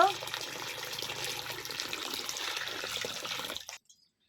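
Water pours steadily into a bowl of flowers being washed for a sweet, sour and spicy jujube pickle. It is a close, continuous rush of running water for about three and a half seconds, then cuts off into silence.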